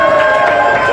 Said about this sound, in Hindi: वो जमीला मेमन के लिए तालियां।